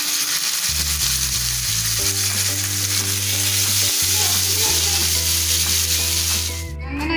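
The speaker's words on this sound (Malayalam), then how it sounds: "ഇപ്പം നമ്മുടെ ഫിഷ് ഒന്ന് ഫ്രൈ ആയിട്ടുണ്ട്" Fish pieces shallow-frying in hot oil for a Kerala-style fish molly give off a steady, close sizzle that fills the whole stretch, with tonal background sounds running underneath.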